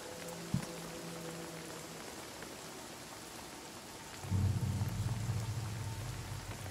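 Light rain falls in the action RPG Banishers: Ghosts of New Eden, a soft steady patter with a faint knock early on, then a deeper rumbling wash of heavier rain joining partway through.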